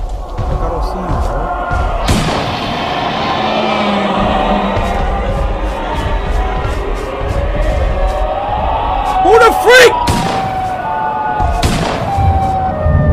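A loud, wailing Siren Head monster cry from a video game sweeps up and down amid game noise and thuds, with a person talking over it.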